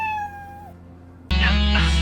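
A cat meows in a short clip: a drawn-out tonal mew, a brief pause, then a louder, harsher meow close to the listener.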